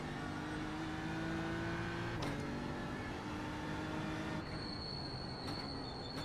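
High-pitched brake squeal from a McLaren race car in the iRacing sim, a steady tonal whine that holds and then shifts pitch partway through, with no engine roar beneath it.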